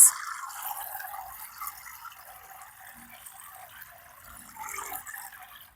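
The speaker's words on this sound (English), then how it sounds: "I'm going to add some water to the bird bath for our bird friends." Water trickles and splashes softly into a garden bird bath, a faint, continuous pour with small drips heard close up and with no voices.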